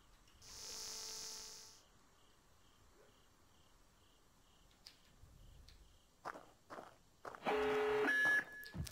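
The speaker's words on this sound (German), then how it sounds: "Okay, Alarm, nicht gut." Electronic alarm beeping in the stealth video game Splinter Cell, a steady high tone lasting about a second early on, followed by quiet ambience and later bursts of game sound effects.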